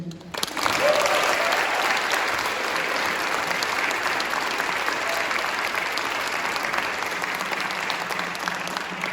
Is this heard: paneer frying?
no